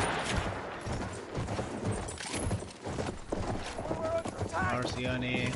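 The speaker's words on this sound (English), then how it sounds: "That's an enemy horse rider." A horse gallops with a rapid clip-clop in the Battlefield 1 video game, mixed under busy battle noise, scattered gunfire and players talking over it.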